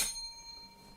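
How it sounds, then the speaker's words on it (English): A single failure bell sound effect rings once, a bright metallic strike that decays slowly over about a second with no voices. "Failure bell."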